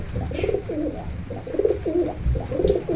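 Pigeons in a breeding loft give repeated soft, throaty coos, close by and overlapping in a steady rhythm, with no people talking.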